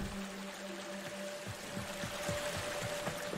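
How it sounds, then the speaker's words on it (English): Inverted waterfall in a video game dojo, a soft, continuous rushing and trickling of water with a faint steady tonal hum beneath, fairly quiet and alone. "The inverted waterfall features."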